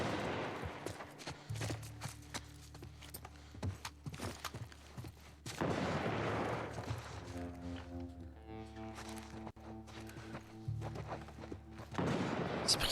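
Gunfire in the video game The Last of Us: bursts of sharp shots and impacts among footsteps and in-game noise, with sustained rapid volleys partway through.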